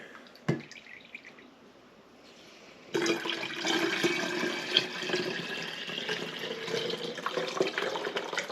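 A short knock, then a quiet pause before water starts pouring steadily into an ITEHIL portable water filter with splashing and trickling, close and continuous to the end.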